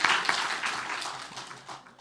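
Applause from a congregation at an autumn special early-morning revival service in a church, a steady wash of clapping that fades slightly over two seconds.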